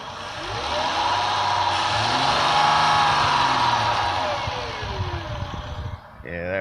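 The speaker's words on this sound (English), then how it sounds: "As you hear that whine, here, I'll step on the gas a little bit so you can hear it" A 2010 Dodge Charger SXT 3.5L V6 with a worn alternator at high mileage revs up and settles back, its engine drone carrying a rising and falling whine, close and loud, with a brief voice near the end.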